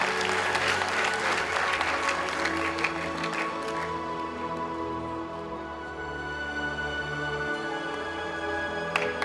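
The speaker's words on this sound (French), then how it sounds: "Ça s'applaudit très très fort." Loud audience applause at a film award ceremony presenting a screenwriting trophy, dense clapping that gradually thins as a sustained musical tone continues underneath.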